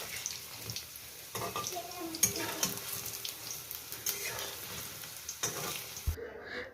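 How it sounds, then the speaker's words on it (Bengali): Small shrimp pakoras fry in hot oil, a steady soft sizzle broken by clinks and scrapes as they are turned over in the pan, with no one speaking. "এরকম করে উল্টিয়ে পাল্টিয়ে কিন্তু পকোড়াগুলো ভালো করে লাল লাল করে ভেজে নিতে হবে"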